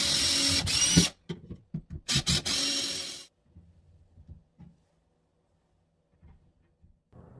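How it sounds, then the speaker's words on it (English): A power drill with a 1/8 inch bit bores a pilot hole through drywall in a bathroom, a loud whirring burst broken into short pulses, then quieter small clicks and handling noises afterward. "I'll use an 1/8 inch drill bit to drill a pilot hole through the wall"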